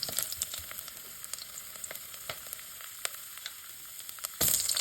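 Oil and ginger frying with chicken liver in a pan produce a soft continuous sizzle dotted with sharp pops and crackles, growing louder in a burst at the end.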